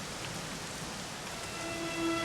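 Steady rain pours down in a Dragon Quest XI scene, a dense, even hiss that swells slightly near the end, with a faint tonal hum beneath and no voices.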